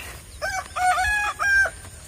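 A native village rooster crows near a small sluice gate by a canal, a single loud, drawn-out call in several rising and falling segments, with no other sounds around it.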